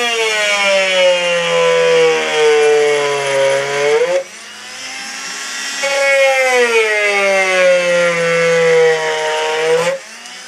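A Rockwell SoniCrafter oscillating multi-tool cuts in two long passes, a loud buzzing drone whose pitch shifts as it bites into the material, briefly dropping off between passes.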